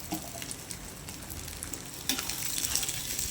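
Three chopped onions fry in a pan for egg curry: a steady, close sizzle with light stirring scrapes, brightening into a louder hiss partway through.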